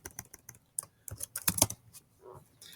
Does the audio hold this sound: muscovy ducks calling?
no